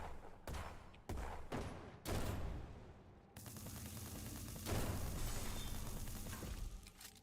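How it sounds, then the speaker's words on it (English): A shoulder-mounted shotgun fires in the game Dolls Nest, giving three sharp close blasts in quick succession, then a sustained crackling barrage of gunfire with no voices. "Okay, shoulder mounted shotgun and cannon."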